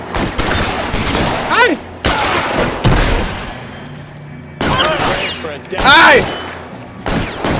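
Dense, loud gunfire rattles through a shootout in the video game L.A. Noire, with bursts of shots and booming impacts while a voice shouts exclamations over the gunfire.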